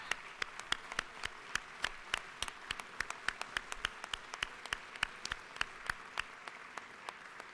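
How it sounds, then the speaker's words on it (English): Applause fills a legislative chamber as visiting students are welcomed at the Georgia House, a steady crackle of many hands clapping at once throughout, with no talk over it. "Let's applaud and welcome them to the People's House."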